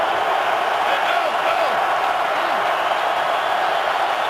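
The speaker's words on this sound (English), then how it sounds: "This Lions crowd is loud, cheering on the first place Lions." A loud Detroit Lions stadium crowd roaring and cheering during an NFL football game against the Jaguars, a dense, sustained wall of noise from many voices throughout.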